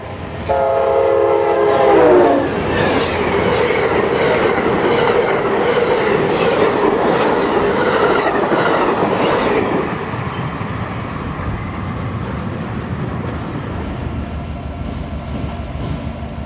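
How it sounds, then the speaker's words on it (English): Amtrak 91, the Silver Star passenger train, arrives at its Jacksonville stop: a loud horn blast at the start, then a steady roar of rolling wheels and rail noise that eases to a lower rumble as it passes. "Here's Amtrak 91, the Silver Star, blazing into its Jacksonville stop."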